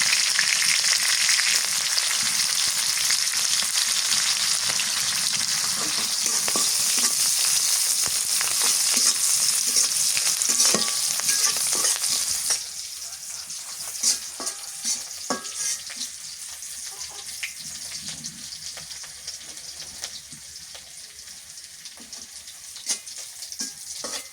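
Garlic sizzles in mustard oil in a pan of young greens, a loud, steady crackling hiss with stirring clinks, easing to a quieter sizzle partway through.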